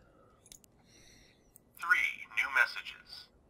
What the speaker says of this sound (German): Der Anrufbeantworter.